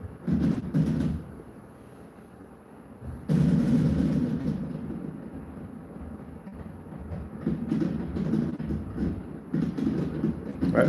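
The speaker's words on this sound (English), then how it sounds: "Let's do a fireworks display." Fireworks boom in a display, deep rumbling bursts arriving in clusters with quieter gaps between them, heavy and resonant as if heard from a distance, with no speech.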